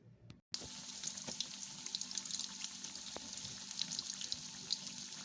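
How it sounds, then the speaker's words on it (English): Pork chops sizzle steadily in a hot pan, a continuous crackling hiss with small pops, fairly quiet and close, no voices. "At this step, we're frying the pork chops."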